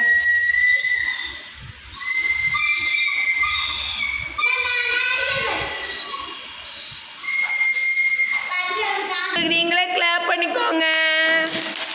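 A child dressed as Krishna for a Krishna Jayanthi celebration whistles several times, giving loud, wavering high tones that mix with chatter and laughter from people nearby.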